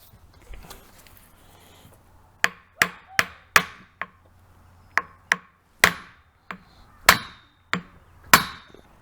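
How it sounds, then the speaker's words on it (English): A dozen sharp metallic hammer blows ring out at close range, knocking a joint off a Jeep Grand Cherokee WJ driveshaft, struck in irregular clusters with short pauses between. "you may have to use a hammer to get it knocked off"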